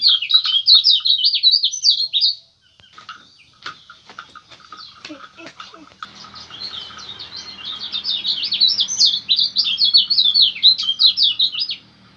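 An albino Lombok white-eye mutation sings rapid, high twittering phrases in a forest, bright chirps repeating in long bursts with a short quieter gap of scattered calls and faint background rumble.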